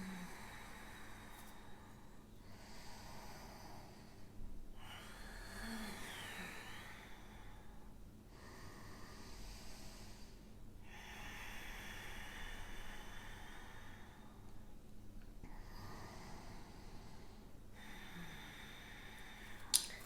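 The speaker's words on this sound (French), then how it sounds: "Cinq grandes respirations." Slow, deep breathing held in a yoga downward dog pose, soft airy inhales and exhales repeating in a calm, even rhythm, faint and close with no talking.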